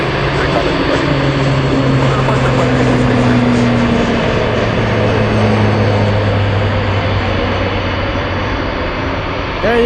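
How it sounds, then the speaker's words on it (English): An aircraft takes off on runway 33 at Anchorage, its engines a loud, sustained roar with droning low tones that slowly shift in pitch as it climbs away. A voice talks over the noise. "We have takeoffs on 3-3 once again."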